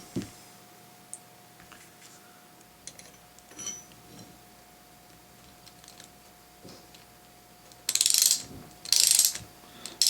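A ratchet wrench tightening bolts on a washer and nut kit, with scattered clicks and small mechanical knocks followed by two loud bursts of rapid ratcheting close up near the end.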